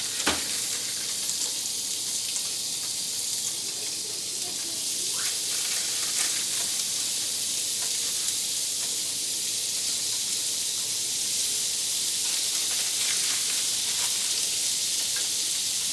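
Hamburger patties sizzle steadily on a George Foreman smokeless grill, a constant bright frying hiss with no talking over it.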